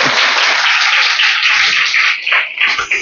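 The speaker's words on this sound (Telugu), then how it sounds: "నమ్మితే చప్పట్లు." A church congregation at a Sunday sermon in Narasaraopet bursts into loud, dense clapping that carries on steadily with no voices over it.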